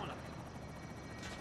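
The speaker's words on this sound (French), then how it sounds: "Hélico en position." Helicopter in a Call of Duty match, a loud continuous rotor thrum with steady chopping pulses, close and dominant, while someone talks over it.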